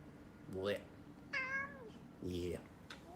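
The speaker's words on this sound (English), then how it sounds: "Super cute cat. Very cute cat." A pet cat meows three times, close and fairly clear, each call a short rising-falling wail with pauses between, in a quiet room with a faint voice nearby.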